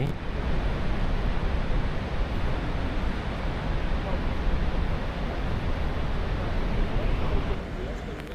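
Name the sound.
Niagara Falls waterfall roaring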